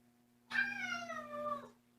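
A single drawn-out meow from a foster kitten, falling in pitch, close and clear over a faint steady hum, lasting a little over a second.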